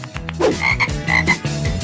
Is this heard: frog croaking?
yes